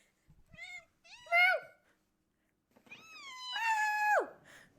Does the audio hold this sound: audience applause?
no